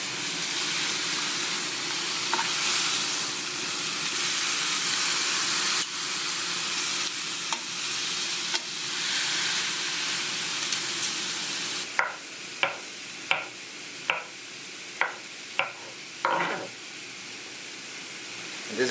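Beef steak and vegetables for a keto stir fry sizzle and hiss steadily in a wok, then a series of evenly spaced sharp clanks and scrapes rings out as the meat is flipped and stirred.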